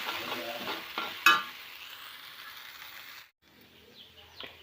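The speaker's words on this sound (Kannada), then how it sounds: "ಇದನ್ನು ನೀಟಾಗಿ ಹುರ್ಕೊಳ್ಳಿ" Okra stirred and fried in oil in a pan: a soft sizzle with a few scraping spoon strokes and one sharp clink early on, fading to quiet before faint stirring resumes.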